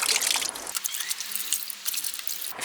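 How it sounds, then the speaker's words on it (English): A Dyson DC33 vacuum filter is washed in a bucket of water, with a burst of sloshing as it is dunked and squeezed, followed by scattered drips and trickles falling back into the bucket. "Dunk the filter in and give it a good squeeze, and do this about 10 times"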